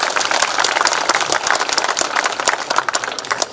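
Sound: applause at a park opening ceremony

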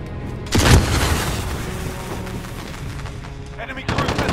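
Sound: cruise missile explosion in the video game Call of Duty: Modern Warfare

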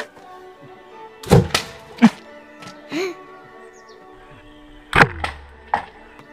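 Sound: Gamo CFX Royal air rifle shot

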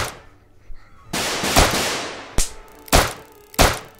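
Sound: gunshots in the Police Response VR video game

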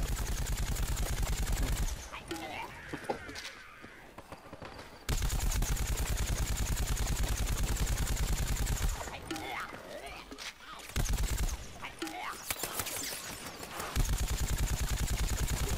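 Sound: gunfire in video game Plants vs Zombies

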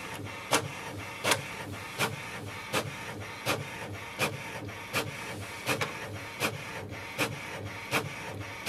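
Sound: HP Envy 6255 printer printing

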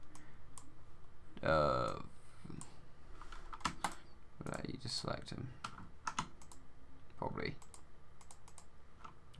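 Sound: typing on a Corsair K65 keyboard

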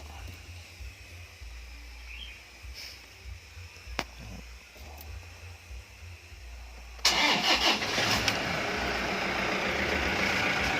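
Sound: car engine starting

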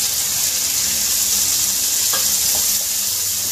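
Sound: chopped tomatoes frying in a pan

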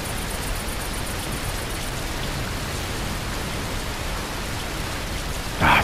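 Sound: rain in Amsterdam in video game Fernbus Simulator

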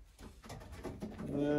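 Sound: pigeon cooing

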